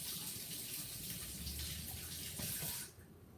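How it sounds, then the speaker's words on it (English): Cool tap water runs steadily from a faucet into a container for a steak salad preparation, a continuous close gushing hiss that cuts off near the end. "let me fill this up with some cool water"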